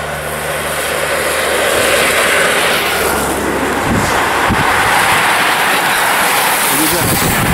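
An airplane flies overhead at a distance, giving a steady, broad engine drone mixed with gusty wind buffeting the microphone. Faint voices may be present.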